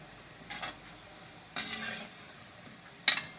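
Gulab jamun balls frying in hot oil, a constant quiet sizzle broken by three short metallic scrapes and clinks of a stirring spoon against the pan.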